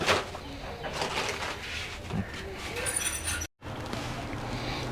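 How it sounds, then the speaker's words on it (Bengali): Rajshahi Giribaj pigeons coo softly amid steady background noise, with a voice speaking at moments. "আমি এখন আরেক জোড়া কবুতর বের করব"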